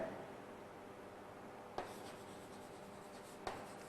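A marker or chalk scrapes softly across a board during a chemistry lecture, and two sharp taps mark the strokes. The sound is faint and quiet, with no talking.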